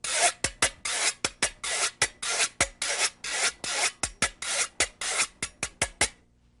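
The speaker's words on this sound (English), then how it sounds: "the güiro. This one is actually made of metal and has a very bright sound" A metal güiro scraped back and forth with a small rake, a bright rasping sound in a quick, even series of about twenty strokes, close and alone.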